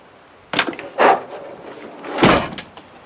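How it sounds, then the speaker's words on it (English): The middle side door of a Land Rover Defender 110 Station Wagon, weak and flexing at the side, is shut in several close knocking thuds with rattling, ending in a solid slam, no talk. "So, consequently, when we shut this door now,"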